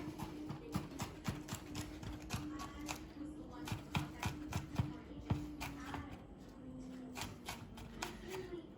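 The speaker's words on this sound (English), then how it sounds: "Easiest way to chop them up finely is crush them with your knife like that, and then just start chopping." Kitchen knife finely chopping crushed garlic cloves on a board, quick rhythmic taps repeating close up and fairly soft, with a faint voice in the background.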